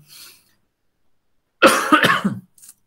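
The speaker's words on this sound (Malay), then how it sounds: "Sekejap batuk pula cikgu." A teacher's single close, loud cough burst with a couple of quick follow-up hacks, after a short quiet stretch and a faint earlier sound.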